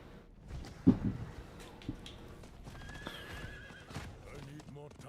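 A horse whinnies once, loudly, early on in a Diablo game, and clip-clopping hooves and game effects follow under a voice as he talks over the action.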